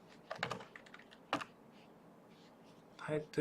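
A computer keyboard typing a title in an online comic-making tool, a few brief bursts of key clicks separated by pauses, close and fairly quiet, ending in a quicker flurry of presses.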